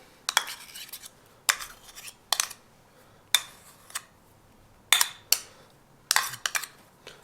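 Food scooped into a bowl with a metal utensil, six separate clinking scrapes spaced about a second apart, close and crisp over near silence.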